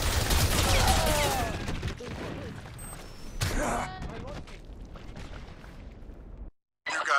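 Dense, rumbling covering fire roars through a Crysis Remastered battle, loud at first and then thinning, with grunts and shouted voices mixed in before a brief dropout.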